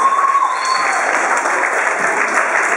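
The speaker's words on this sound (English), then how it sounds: "Yeah, give her a round of applause." A large audience applauds at an engineering game show held at San Jose State, dense and loud clapping that stays even throughout, with a faint tone running beneath it.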